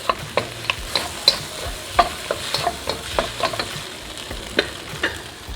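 Shrimp and vegetables sizzle in a hot pan while a utensil stirs and scrapes them, making a steady rhythm of clinks and scrapes over the frying hiss, close and clear with no talking.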